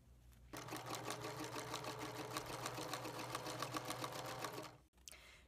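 A sewing machine runs steadily for about four seconds, stitching fabric into homemade cording for a fitted slipcover, its rapid needle rhythm loud and close, then stopping abruptly.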